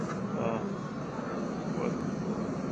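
Fixed-wing airplane passing overhead during an outdoor rally at the White House, a steady broad roar that fills the clip at moderate loudness with talk mixed beneath it.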